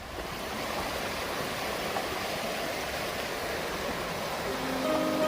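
A forest creek along the South Deuel Creek trail on the Cache MACS route runs in a steady, close rush of water that fills the whole stretch without a break or any talk over it.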